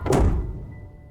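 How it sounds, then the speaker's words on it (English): A door slammed shut by the wind lands as one loud, close thud with a sharp attack, then decays quickly into a low rumble. No one speaks over it. "The wind slammed the door shut behind him."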